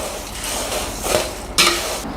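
Crispy homemade mixture snack made with flattened rice, tossed in a pan, giving a steady dry rattling crunch close by with a couple of louder rustling surges, no talking.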